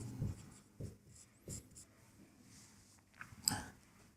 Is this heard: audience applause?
no